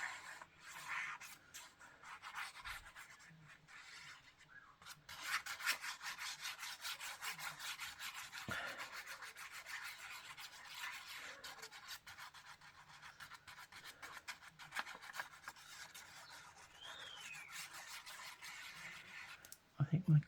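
Paper piece rubbed down onto a glued background in a papercraft project, a faint repeated scratchy rubbing against the surface, with soft talking in places.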